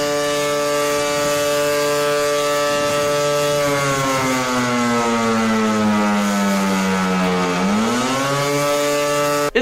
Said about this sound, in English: A creepy World War II German air raid siren makes its way onto this list at number 5.